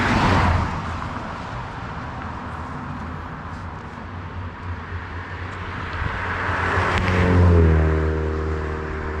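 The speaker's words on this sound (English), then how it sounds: "These cars are flying down through here." Cars speed past on a nearby road, a steady rush of traffic noise that swells as one vehicle passes close near the end, with no talking.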